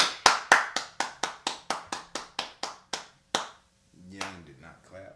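About a dozen sharp, evenly spaced hand claps from podcast hosts in a studio, close and crisp in a quick steady rhythm, then a pause before a voice begins speaking.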